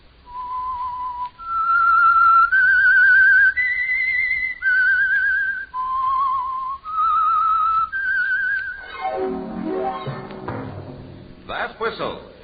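A loud whistled melody of clear, held notes that steps up and down, then gives way to a burst of other noise near the end.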